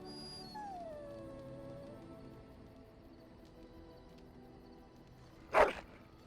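A dog howls faintly in a dragon dating simulator game, a long descending wail early on, followed by quiet ambience and a sudden brief loud burst near the end.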